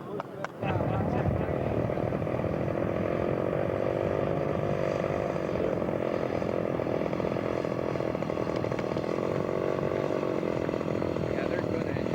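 A scale model aircraft engine drones steadily and loudly through the whole stretch at an outdoor air show, a continuous buzzing tone with no talk over it.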